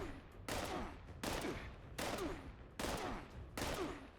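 Five bursts of gunfire hit an armoured character in an online video game, spaced roughly evenly, each a loud sharp crack with a short rattling tail.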